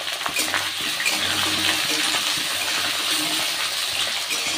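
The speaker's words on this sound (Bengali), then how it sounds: "আলুটাকে ভালো করে একটু ভাজা ভাজা করবো" Potatoes fry in a pan of oil with a little turmeric and salt, giving a steady close sizzle with light scraping and clinking as they are stirred, and no talk.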